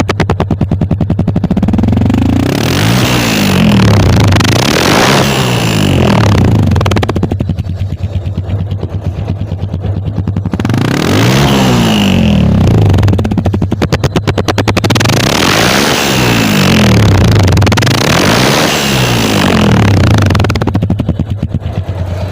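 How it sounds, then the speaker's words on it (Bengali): A Bajaj Discover 135cc motorcycle with original head silencer idles and is revved, a loud close exhaust thrum with repeated rising and falling throttle swells over about twenty seconds. "এবার এই বাইকটার আমি সাউন্ড শোনাবো"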